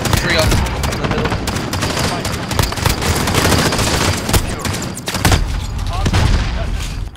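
Gunfire in the video game Call of Duty Modern Warfare, dense automatic bursts and loud blasts firing almost without pause, with voices talking under them.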